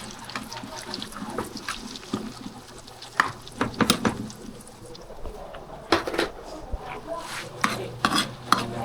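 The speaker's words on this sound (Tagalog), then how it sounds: "ilalagay na natin tong sibuyas. Sibuyas na marami." Plenty of onions tipped into a pan and stirred, with scraping, clinking utensil strokes and soft sizzling over several seconds while people talk nearby.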